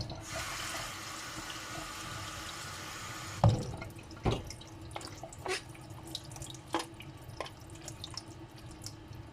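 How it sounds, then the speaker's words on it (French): Running tap water pours steadily into a sink over rinsed leeks, then cuts off, leaving scattered drips and light clinks of a knife in the draining water. "Quand il y a un peu d'eau, on tourne avec le couteau pour que l'eau s'évacue facilement. Et on rince."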